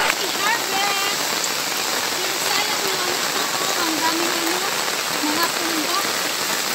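Heavy rain pours steadily on a mountainside, a dense continuous hiss with scattered drips, while voices talk faintly beneath the downpour.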